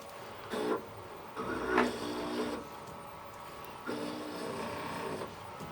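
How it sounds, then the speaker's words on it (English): A slow-running countersink cuts into a metal part clamped in a vise, giving a few quiet, brief grinding and chattering bursts separated by pauses, close by and with nobody talking. "bring this down into my vise, right, this countersink, running nice and slow"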